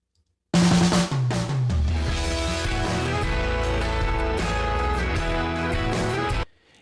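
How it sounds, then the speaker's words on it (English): A full music mix is pushed through heavy limiting, so it sounds dense, loud and flattened, with a crackly, distorted edge that holds steady for several seconds before cutting off. "That's the sound of heavy limiting."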